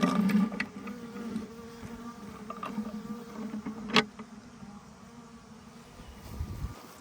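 Honeybees buzz around a beehive in a faint, continuous hum, with a single sharp knock partway through.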